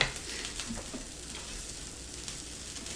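Sausage frying in a pan gives a steady close sizzle and crackle with faint scraping stir sounds, continuous for a few seconds with no talk.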